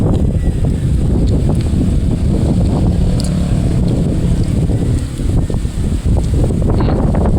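Cold wind blows hard and steadily outdoors, producing a loud, continuous low rumble of buffeting against the microphone.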